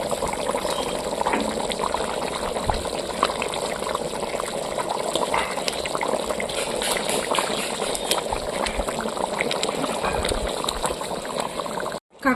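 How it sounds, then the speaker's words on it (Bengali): A young jackfruit and salted crab curry boils hard in a pot, a steady, close, dense bubbling and seething that runs unbroken until it cuts off abruptly at the end. "দেখুন তরকারিটা কিন্তু ফুটে উঠেছে।"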